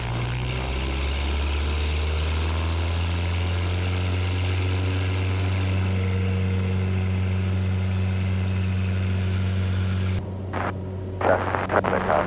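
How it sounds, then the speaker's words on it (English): A Zenith CH-750 Cruzer light airplane drones steadily in flight, its propeller and engine holding a loud, even hum with harmonic tones, then the sound shifts abruptly near the end into rougher, broken noise. "this really is such a good flying airplane"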